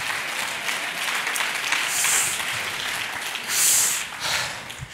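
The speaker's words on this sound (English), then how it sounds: "clap your hands and praise Him" A church congregation claps their hands in praise, a steady, dense wash of applause that lasts throughout, with a couple of brighter swells of cheering rising above it.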